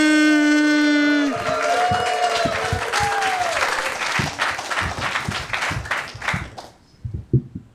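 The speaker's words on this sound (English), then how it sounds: "Please make some noise for my brother, Delamomanny." Comedy club audience at Def Noodles Comedy applauding and cheering as a comedian is welcomed to the stage. A short musical tone fades into loud, sustained clapping that thins out near the end.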